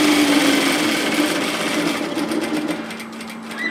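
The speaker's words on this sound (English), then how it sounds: "So start sewing a seam at 1 centimetre 3/8 of an inch" A sewing machine runs steadily, stitching a seam on fabric for an apron dress, its motor hum and rapid needle chatter continuous and close throughout.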